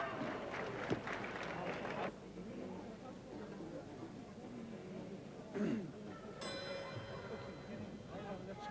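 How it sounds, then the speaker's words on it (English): A boxing ring bell at Arrowhead Pond in Anaheim, California, rung to start round 3, rings out with a sustained metallic tone late in the stretch amid arena murmur and commentary. "The bell, the bell has rung a couple of times"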